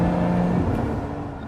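A Lotus Emira's supercharged engine sounds up close as a steady, loud mechanical drone and rumble, with a thin whine layered over the top.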